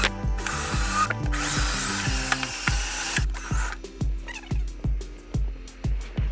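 A power drill drives long screws into a gas furnace that will not light, with water in the inducer motor, giving a series of short close whirring bursts, louder and longer at first, then about eight quick even pulses with a ratcheting edge.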